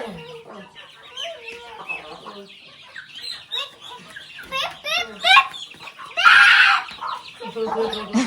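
Chickens cluck in short bursts close by, with one loud squawk, while people talk over and between the clucks.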